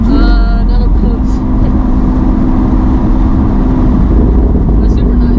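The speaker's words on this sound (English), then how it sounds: "Would you expect the car to be this loud?" Loud exotic car engine heard from inside the cabin, a steady, heavy low rumble with a droning tone that holds at constant level throughout.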